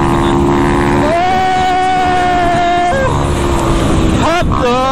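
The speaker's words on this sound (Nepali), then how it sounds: "गियर सिफ्टिङ हानेको" A Crossfire RM250 motorcycle revs during wheelie riding in Nepal. The engine drones loudly and steadily, its pitch climbing and then dropping around a gear change near the end. Wind buffets the microphone and a voice speaks underneath.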